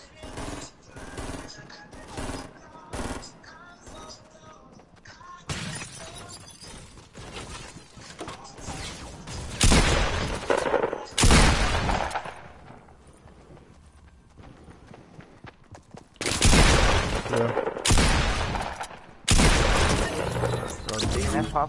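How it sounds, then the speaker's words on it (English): Shotgun blasts ring out in Fortnite gameplay as sharp, loud bursts spread across the span, mixed with bursts of clatter and heard between and under players talking. "That shotgun deadly."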